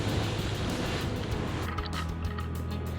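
Ocean waves pounding a rocky tidal beach among tide pools with gooseneck barnacles, a steady, loud, broadband roar of surf that never lets up, with no voices.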